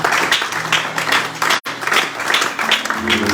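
A church congregation applauds for the Lord during a closing service. The clapping is loud, dense and sustained, with a brief cut-out in the middle.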